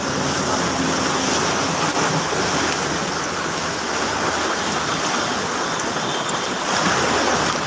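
Floodwater rushing through a street in Spain after light rain, a steady broadband roar of moving water close by, continuous and unbroken throughout with no voices.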